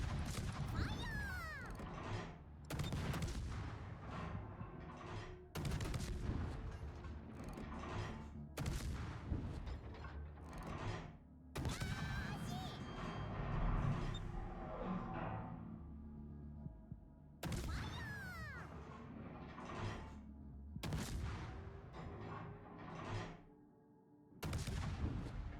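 Repeated gunshots in a first-person shooter video game during a ranked match, loud bursts separated by brief pauses across the span, with dense game sound between them.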